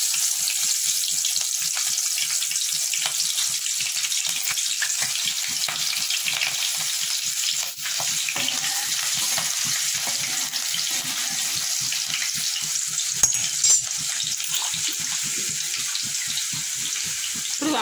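Finely chopped green chillies fry in hot oil for an eyebrinjal masala curry, a steady close crackling sizzle throughout with faint stirring scrapes underneath and no voices.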